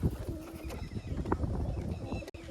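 Pigeons coo softly at a backyard pigeon setup, low murmuring calls with wing rustles and scattered thumps, a bit of background voice and clatter mixed in.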